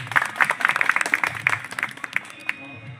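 A crowd claps at a YouTubers' friendship gathering in Nuapada district, scattered, uneven hand claps in short bursts that thin out toward the end, with talking mixed in.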